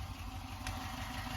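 A car engine running on the choke after a rear muffler repair, a steady close rumble with a mechanical clatter and no distinct rev peaks.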